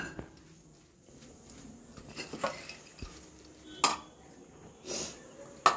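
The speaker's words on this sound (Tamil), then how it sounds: "நல்லா எல்லாத்தையும் கலக்கி விட்டு" A utensil stirring masala poori mixture in a metal pan, scattered scrapes and clinks at uneven intervals, close and moderately quiet, with a soft sizzle beneath.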